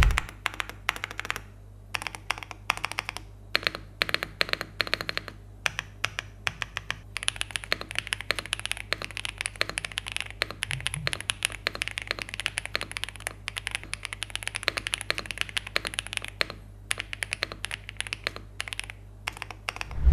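A full-size Atas YG102 mechanical keyboard with a polycarbonate plate and silicone gaskets is typed on steadily, giving a dense, continuous patter of close key clacks with brief pauses and no talk.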